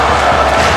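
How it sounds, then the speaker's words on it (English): Virtual arena crowd in a WWE 2K wrestling game match set in Salt Lake City, a steady dense roar of cheering and shouting, loud and continuous, with no distinct voices over it. "And this crowd showing their appreciation here in Salt Lake City"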